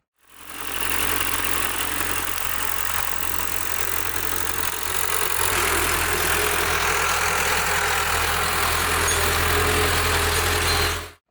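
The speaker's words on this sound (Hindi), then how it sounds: "11 टाइम से कल्टीवेटर पे 55 HP ट्रैक्टर कितनी तेजी से चल सकता है और कितना लोड पड़ता है" Farmtrac 55 HP tractor under load pulling an 11-tyne cultivator through hard ground, a continuous loud diesel drone with low rumble and vibration, steady throughout with a slight swell midway.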